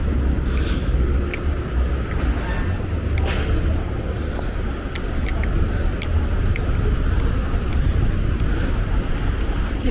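Gusty wind buffets the microphone with a constant low roar in Shibuya, rising and dipping slightly, while faint clicks and rustles sit underneath.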